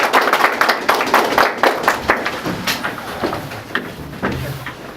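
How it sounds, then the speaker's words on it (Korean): A small group at the close of a meeting claps together in a short burst of distinct, uneven hand claps that thin out and fade, with little talk. "다 같이 박수로 마치겠습니다"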